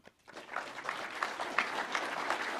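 An audience applauding, a dense steady patter of clapping that starts abruptly and holds for a few seconds.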